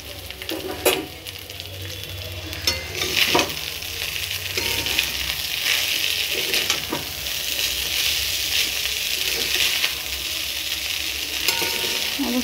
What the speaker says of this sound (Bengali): চাউগুলোকে দিয়ে একটু একটু করে মিক্স করে নেব